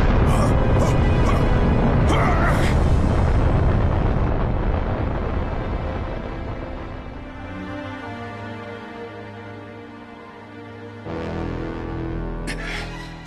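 A rocket-like blast in a Sonic X cartoon scene starts as a loud, roaring burst with a few sharp cracks. It then fades into a falling rumble, and a second strong surge follows near the end.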